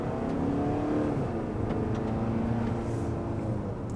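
A 2018 Volvo XC40 D4 diesel engine revs steadily inside the car, a low droning hum with a slight rise in pitch, moderately quiet and continuous, with no talking.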